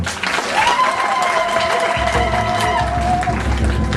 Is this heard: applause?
yes